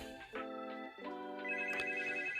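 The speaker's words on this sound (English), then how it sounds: "And now my phone's ringing." A mobile phone rings nearby with a repeating electronic tonal ringtone melody, clear and steady, with no talking over it.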